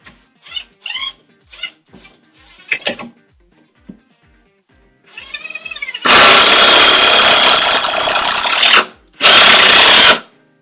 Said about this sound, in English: And if it's still tight, then you use your drill.